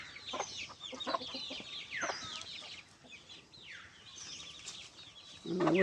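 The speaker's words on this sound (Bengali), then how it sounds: "এই দেখো মুরগির বাচ্চা" A flock of hens and young chicks clucking and cheeping near a hillside home, a continuous close chatter of calls with a louder rustle at the end.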